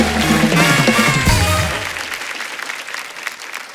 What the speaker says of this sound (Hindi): जोरदार तालियां हो जाए एक बार इनके लिए।